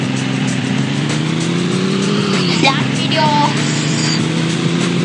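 A car engine in the Traffic Racer mobile game drones steadily throughout, its pitch rising slightly and then dipping, with a brief squeal-like tone midway, loud and continuous.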